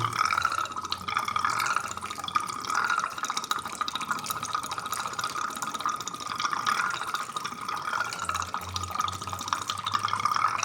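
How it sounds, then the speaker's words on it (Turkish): Black water draining out of a home heating radiator into a container, a faint, steady trickle and drip running continuously without speech. "Şu siyah su geliyor. Süzelim."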